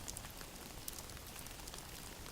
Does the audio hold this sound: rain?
yes